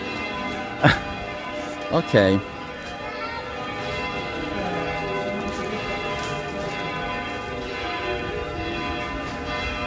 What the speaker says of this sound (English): I enjoy the bells ringing as well